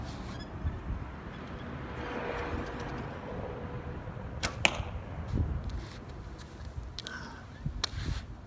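Several arrows loosed from a bow outdoors, each a brief sharp snap and whoosh standing out over a low wind and background rumble.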